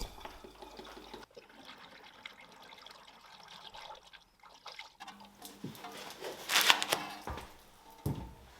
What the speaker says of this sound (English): So remove your cap, use a funnel, and we'll start filling up the coolant.